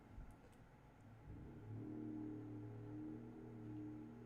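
A loud motorbike passes outside, its engine rising from a distant rumble into a sustained droning whine that holds steady, heard faintly through walls with no talking.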